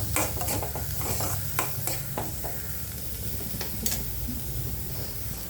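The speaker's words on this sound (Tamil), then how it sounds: "இதை நல்லா கொஞ்சம் வதக்கிக்கலாம்" Chopped onion and green chili sautéing in a pan for an egg dish, a gentle steady sizzle broken by quick spatula taps and scrapes, close by with no voices.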